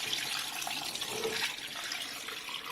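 Duck brine being poured out in a home kitchen, a steady close splashing stream of liquid running for a few seconds without a break.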